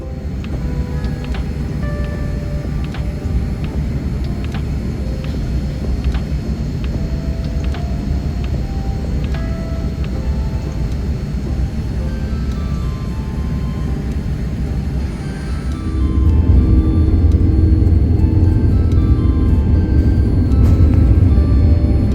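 Jet engines of an airliner on an international business class flight, a loud steady cabin roar that swells into a deeper, heavier rumble as the takeoff run begins.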